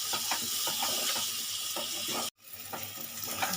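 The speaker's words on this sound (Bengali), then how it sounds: "এবার মশলাগুলো দিয়ে ভালোভাবে একটু কষিয়ে নেব" Spices and ginger being sautéed in a pan for hilsa fish curry with taro, a loud steady sizzle with rhythmic stirring scrapes, briefly cutting out before resuming.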